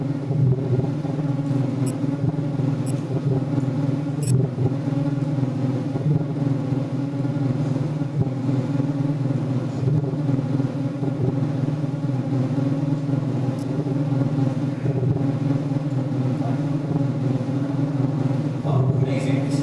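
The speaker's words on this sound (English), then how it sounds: "This is the sound of a stellar cluster." A sonification of a stellar cluster of 100 solar-type stars plays as a dense, steady drone of layered low hums and rumbling overtones, loud and unbroken throughout, with no voices over it.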